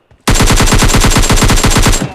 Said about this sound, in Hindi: फिर मुझे फायरिंग का साउंड आया और मैं पीछे से गया